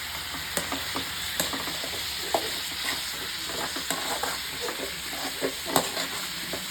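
A coarse ground dough mixture with coconut is sautéed in a pan until it can be shaped into balls. A soft, steady sizzle runs under light, repeated stirring taps and scrapes, fairly quiet and close.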